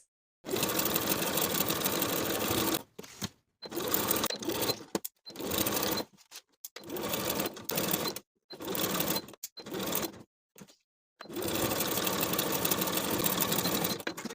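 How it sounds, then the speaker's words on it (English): Sewing machine stitching around a blouse neckline and center back seams: loud, steady whirring runs in several bursts of varied length, separated by brief silent pauses, with no talking. "Sew around the neckline and the center backs with a 1/2 inch seam allowance, catching those sandwich ties in your stitches."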